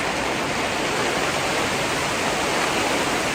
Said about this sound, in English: That's a lot of rain. I know it always sounds worse than a polytunnel, but yeah, that's pretty heavy